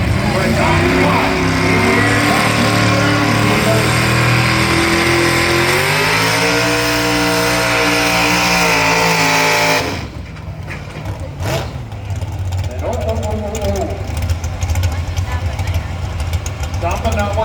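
Pulling tractor at a tractor pull roars under load with a loud, rising engine note for about ten seconds, then cuts off, leaving a lower rumble while an announcer keeps talking.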